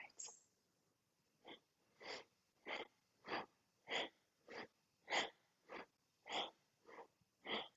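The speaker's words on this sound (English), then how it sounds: "Lovely, strong breathing." Strong rhythmic breaths during a yoga exercise come as about a dozen forceful, evenly spaced exhalations through the nose, each a sharp close whoosh separated by short pauses.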